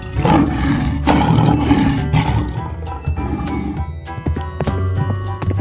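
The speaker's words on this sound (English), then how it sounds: "Lion." A lion roars loudly and close, a harsh drawn-out bellow in repeated bursts, with clattering, hoof-like knocks mixed in near the end.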